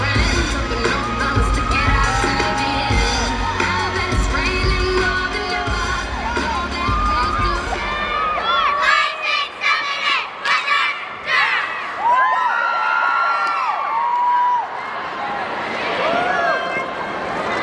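Loud crowd cheering and shouting for the Boca Raton Hurricane All-Stars Weather Girls cheer team at an April 2025 competition, with whoops and children's yells rising and falling over roughly seventeen seconds, mixed with music and an announcer's voice.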